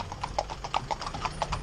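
A pair of horses, harnessed to a pole for tandem driving, clip-clop in a quick, even rhythm of crisp hoofbeats. They sound moderately close, with no talk over them.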